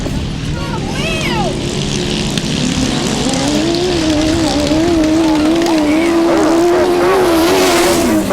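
Grasstrack racing motorcycles, including an Aprilia, roar down the straight at the 2009 South Eastern Centre Grasstrack Championships, their engines whining continuously and rising in pitch, loud and close, with a commentator talking over them.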